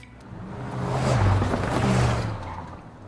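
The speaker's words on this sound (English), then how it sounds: "Rev your engines." A car drives past outdoors at a bourbon distillery, its engine noise swelling as it approaches, peaking in the middle, then fading away, with no speech over it.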